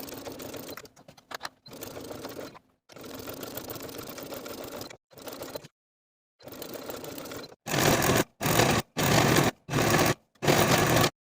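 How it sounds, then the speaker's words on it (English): A sewing machine stitches a band onto a fleece sweater at a 5/8 inch seam allowance, running in a series of bursts separated by pauses, the final five runs short, loud and evenly spaced. "Now I'm going to sew this band all the way around with a 5/8 inch seam allowance"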